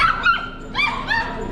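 A dog at a large pet market in Guangzhou gives three short, high yelping barks in quick succession, close by and fairly loud over faint background noise.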